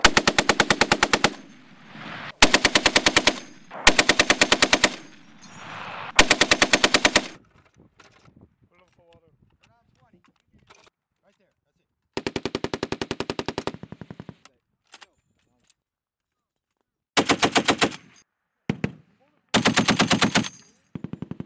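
An M2 Browning heavy machine gun fires in repeated loud bursts of rapid, pounding shots, separated by silent pauses, with a few shorter bursts near the end.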